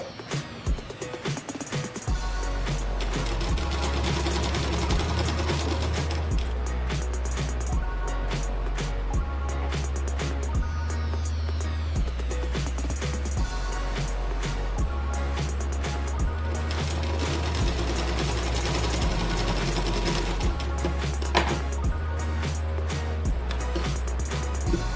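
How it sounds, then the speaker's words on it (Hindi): A sewing machine stitching a double-folded hem on blouse fabric, running steadily for a long stretch with a low rhythmic motor hum and rapid needle chatter, close and continuous, pausing briefly only at the start. "कपड़े को डबल फोल्ड करते हुए एक मोटी सिलाई और लगा लेंगे"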